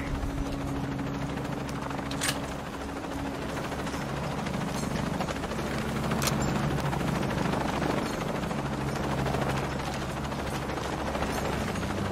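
Helicopter in Shadow of the Tomb Raider with a pilot aboard: a constant loud rotor and engine roar, with a couple of sharp higher bursts cutting through, no voices.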